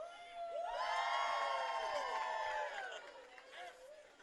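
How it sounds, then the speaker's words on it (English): Home crowd at Koskinen Stadium during a 2012 Duke versus Boston College men's college soccer match raises a chant for Duke. Many voices shout together loudly for about three seconds, then fade into scattered cheers. "You hear the cries of "Let's go Duke" come up from the crowd here at Koskinen Stadium."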